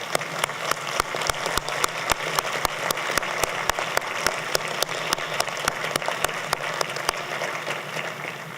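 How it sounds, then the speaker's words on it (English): Audience applause at a university fall convocation, steady clapping from a crowd with sharp individual claps standing out, continuous for several seconds before tapering slightly. "Let's give them all a big round of applause."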